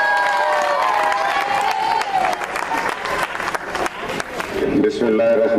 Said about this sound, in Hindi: भरपूर तालियां आपकी होनी चाहिए।